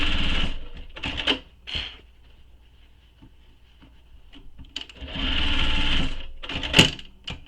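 A sewing machine bastes pieces of a satchel in place, running in two long bursts of rapid stitching with short stuttering starts and stops between them, close and clear.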